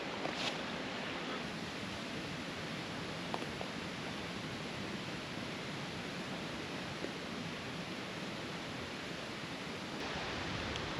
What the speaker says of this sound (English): You know I love that ambient water noise at night.